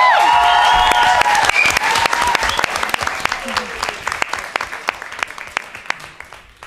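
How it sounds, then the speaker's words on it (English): An audience claps loudly in a hall, the applause starting full and steady, then thinning into scattered individual claps as it fades out; voices and a few cheers rise briefly in the crowd at the start. "round of applause for ever."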